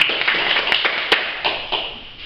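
A small audience gives a brief, thin round of clapping for a lecture speaker, scattered hand claps with a few sharper isolated claps, fading out after about two seconds.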